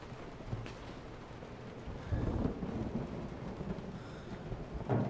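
Thunder rumbles and rolls beneath steady rain during a storm in the horror video game Resident Evil 7, a low continuous wash with a louder swell midway and no talking.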